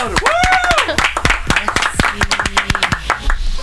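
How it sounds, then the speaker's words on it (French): Audience clapping for a guest on a Moroccan morning radio show, with individual sharp claps in an uneven rhythm mixed with music and other studio sounds. "je vous demande d'applaudir bien comme il faut"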